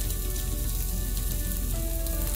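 A burger patty sizzles loudly and steadily in a pan, a dense continuous frying hiss with faint crackles and no voices.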